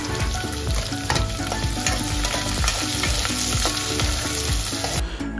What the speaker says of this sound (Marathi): आता ह्याच्यामध्ये कांदा ॲड करूया आणि तो ब्राऊन होईपर्यंत, ब्राउनिश कलर होईपर्यंत त्याला परतूया।